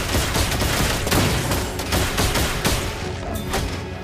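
Dense, continuous gunfire fills an esports match of a mobile battle royale shooter, with rapid overlapping shots and bursts that stay loud throughout.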